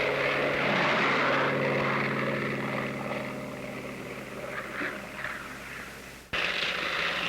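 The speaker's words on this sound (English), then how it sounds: "The Navy Bearcat seemed to be all propeller and engine." Grumman F8F Bearcat Navy propeller-driven fighter plane, its piston engine and propeller roaring steadily with a droning buzz that eases slightly in level before surging back up loudly.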